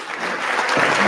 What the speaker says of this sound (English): Now they're clapping because she's doing it.